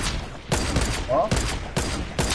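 Bursts of gunfire ring out in a sniper shootout video game, loud rapid shots in clustered volleys across the clip, with a voice briefly speaking over them.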